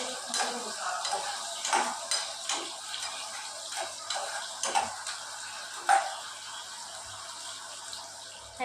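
Tadka tempering for chole sizzles steadily in a pan, with scraping stir strokes and small clinks recurring throughout, close and moderately loud with no talking.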